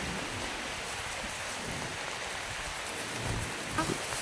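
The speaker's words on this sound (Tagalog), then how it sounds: "malakas ang ulan" Storm noise from Typhoon Kristine on a seaside boulevard in Borongan: a steady, loud broadband roar of wind and heavy rain that stays constant throughout, with a brief louder gust near the end.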